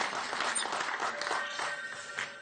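Scattered applause from a French game-show audience, moderate and somewhat distant, with a faint murmur of voices mixed in.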